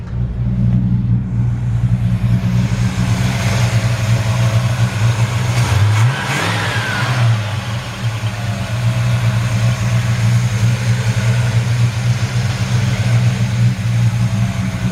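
A 1954 Chevrolet 3100 pickup truck engine idles steadily with a deep, even rumble throughout, close and loud, with a brief shift in tone partway through.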